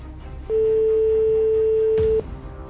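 One long, steady ringing tone sounds over a phone line, lasting under two seconds against faint background noise.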